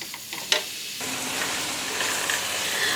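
Sweet dough frying in a ceramic-coated pan for a festival sweet, a steady loud sizzle that swells after a brief quieter start with a few clicks, no voices.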